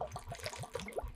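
Bourbon glugs from opened bottles into a barrel outdoors, a repeating series of low, pulsing gurgles at a steady rhythm, close and moderately quiet.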